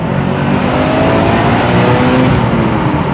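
A Subaru Impreza WRX STI pulls hard on a public road, its engine note loud and continuous from the cabin as it climbs through the revs, droning steadily with no pauses or talk.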